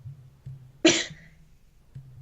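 One person coughs once, sharp and close, in a quiet room with a faint low hum underneath.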